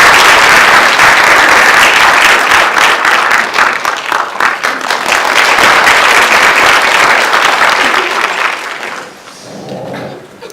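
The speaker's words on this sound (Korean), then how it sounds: "박수 맞아주시기 바랍니다" A large, loud audience applauds at a book concert held with bereaved families of the Sewol ferry disaster. The dense clapping holds strong for about nine seconds, then fades, and a voice begins speaking.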